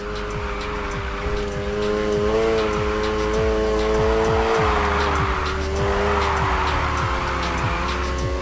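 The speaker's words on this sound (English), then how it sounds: "First up, let's hit a basic drift." Car drifting in the racing video game Need for Speed Heat, a loud engine revving with shifting pitch over sustained tire squeal and skidding, continuous for the whole stretch.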